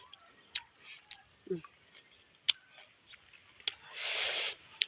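Chewing on unripe fruit picked in a backyard, soft wet bites and mouth clicks scattered over a few seconds, close and quiet, ending in a louder hissing burst.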